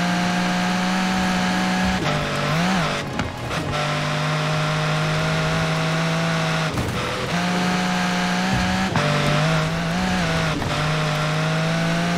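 Pagani supercar in Forza Horizon 4 on a slippery, wet road: a steady, loud engine drone holding pitch throughout, with brief surges and dips in revs around a few moments, no voices.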